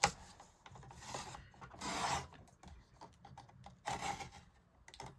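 A paper trimmer slices card stock down to size for handmade Christmas cards, producing a few close rasping, scraping strokes separated by quiet gaps.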